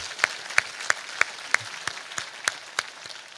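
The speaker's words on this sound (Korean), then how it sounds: "다시 한번 하나님께 영광의 박수 올려드리겠습니다" A church congregation claps in a slow, even rhythm, about three sharp claps a second, fairly quiet and distant in a reverberant hall.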